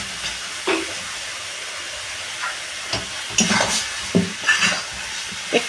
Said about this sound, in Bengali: এবার আমি ভাজা আলুটা দিয়ে দিচ্ছি।